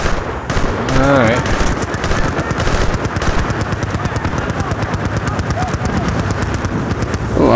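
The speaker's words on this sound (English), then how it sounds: "Oh, somebody's shooting at me too." Rapid automatic gunfire from the video game Battlefield Bad Company 2, loud and nearly continuous bursts throughout, with a voice talking over it at times.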